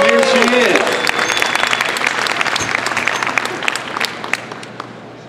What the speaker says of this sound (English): let's have a nice round of applause for Holly Walter Kirby